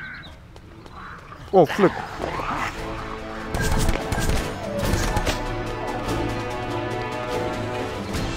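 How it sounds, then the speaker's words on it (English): Bullet ricochets off surfaces in the video game Occupation 2.5, with a couple of sharp, bright impacts followed by busier clatter, all under a man's brief spoken reaction. "that is the bullet ricochet, you guys can see"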